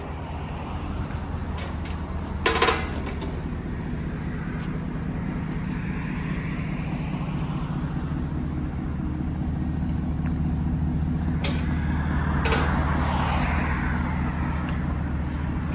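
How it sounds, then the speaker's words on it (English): A 1998 Chevy Camaro SS with a 5.7L LS1 V8 and Borla axle-back dual exhaust idles with a deep, steady rumble, close and loud, with a brief blip and slight swell partway through. "The BORLA sounds really good on it."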